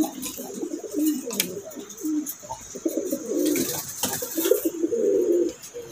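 Pigeons in a loft of birds kept for sale coo in repeated low, throaty phrases, fairly close and steady throughout, with faint chirps around them.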